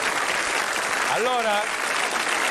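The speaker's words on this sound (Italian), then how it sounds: "un grande applauso con la riga nel mezzo" Broadband applause from a studio audience fills the whole stretch, steady and loud, while someone speaks a brief word over it.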